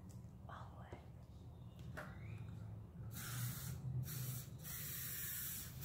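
Short hissing bursts of a spray paint can, then a longer sustained spray, close up, with faint voices in between.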